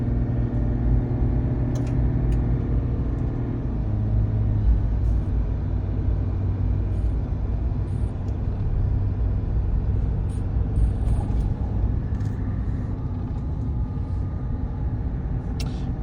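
A small, supposedly quiet diesel engine in a truck labors up a hill on a road through badlands country, a steady loud rumble and drone running continuously close by, with no talk.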